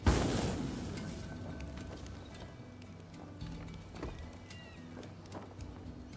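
A horse's hooves clip-clop in the video game Rise of the Ronin, a steady, fairly faint rhythm of hoofbeats that follows a louder opening burst and continues with no talking over it.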